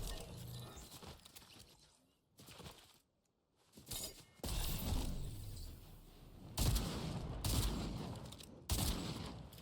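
Shotgun and pump-action fire in the video game Fortnite, a burst of sharp blasts with a brief quiet gap, then more heavy shots in uneven succession, moderately loud.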